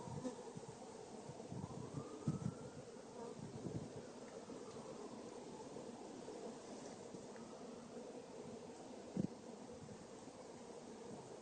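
Many honey bees hum steadily around an open beehive box, a low continuous drone at moderate distance with a few brief louder buzzes passing close.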